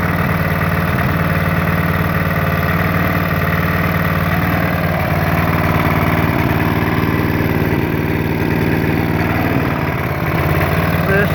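A Clarke Power CPB1200 petrol engine with no power runs close by with a steady, droning idle, and small blips on the carburettor barely change its even hum.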